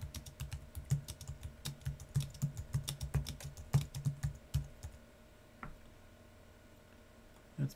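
Close, rapid keystrokes clatter on a computer keyboard in an uneven rhythm for about five seconds, then stop, leaving near silence and one last tap.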